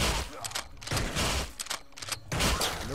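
A small shotgun blasting repeatedly in the twin-stick roguelike shooter Utopia 9, loud booming shots in quick succession with brief gaps, alone without talk.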